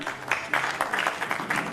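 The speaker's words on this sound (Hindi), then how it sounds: "गुलशन राज सिंह के लिए जोरदार तालियां।" Short burst of audience applause for a guest at an Indian award ceremony, a dense clapping crowd rising in a few quick swells over under two seconds.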